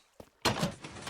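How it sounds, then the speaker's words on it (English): Doors opening in the video game Minecraft: a soft knock, then a sudden loud creaking thunk that trails into a sustained rustling clatter. "Let's just open all the doors."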